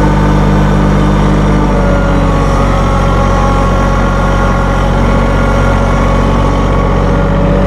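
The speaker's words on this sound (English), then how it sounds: "And we can give her a little RPM." A Massey Ferguson 1825E hydrostatic compact tractor with a 24 hp engine revs up from idle, its loud, close, steady drone rising in pitch after about two seconds and holding there.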